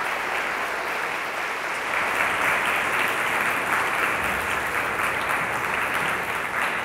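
An audience at a book talk gives author Renee Watson a sustained round of applause, a dense steady clapping from many hands that swells slightly midway and carries on throughout.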